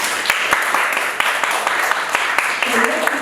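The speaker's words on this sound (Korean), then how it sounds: "박수 한번 주세요." Clapping from the audience at a book salon event with an author, a lively mix of hands with some crisp, close claps standing out, while someone speaks over it.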